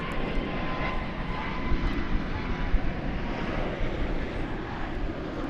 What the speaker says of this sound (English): we've got the 777 coming in